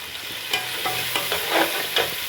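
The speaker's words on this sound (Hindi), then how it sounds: "चलें जी अब मैं शामिल करने लगी हूँ यखनी।" Yakhni stock is poured into masala frying in a pot for biryani, setting off a steady sizzle with intermittent stirring scrapes and clinks, close and continuous with no voices.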